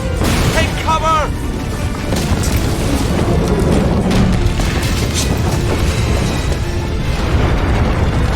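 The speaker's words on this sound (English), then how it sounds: "Bomb! Get down!" Bomb explosion in Broken Sword 3, a loud sustained blast and rumbling roar filling the scene, with brief shouted voices near the start.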